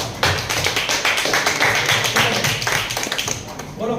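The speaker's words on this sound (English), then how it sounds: "Can we clap for her?" A classroom of students claps for a classmate after she answers correctly, a dense run of quick overlapping claps filling the room for about four seconds, close and loud, with some voices mixed in.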